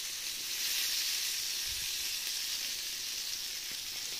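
Ruffe fish coated in flour sizzling and frying in a hot pan, a constant loud hiss of spitting oil with no talking.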